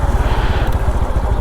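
A Honda Super Cub's small single-cylinder engine putters close and steady while riding, its low rhythmic pulse loud and unbroken with no talking.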